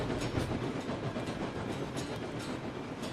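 A train in the video game Railroads Online rumbles steadily along the rails on a rainy day with a continuous roar and faint rhythmic clacking, close and unbroken throughout.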